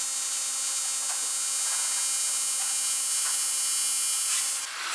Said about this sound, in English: And now just going off and finishing the whole weld.